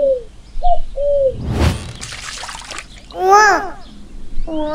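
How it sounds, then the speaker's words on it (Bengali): A dove calling from a tree: several short tonal calls and a wavering, cooing call later on, mixed with a brief splashy burst and a few chirps. No talk is heard. "ঘুঘু পাখি ডাকছে গাছে।"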